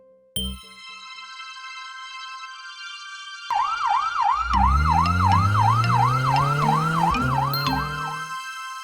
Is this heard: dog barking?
no